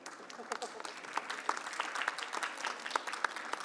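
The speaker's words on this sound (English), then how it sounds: "can we have a big round of applause for Kent Wong, please?" Steady applause from a crowd at a Hong Kong Trade Development Council event, dense clapping with a few sharper claps standing out, continuing for the whole stretch at a moderate level.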